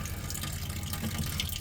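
Water runs steadily from a tap in a motorhome, a continuous close hiss and splash with no breaks and no talk.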